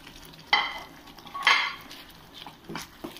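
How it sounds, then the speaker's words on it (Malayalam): Capsicum and onion being stirred in a pan for gobi manchurian, with two distinct scraping strokes near the start and softer stirring clatter afterward, close and fairly quiet. "നന്നായി മിക്സ് ചെയ്യാം."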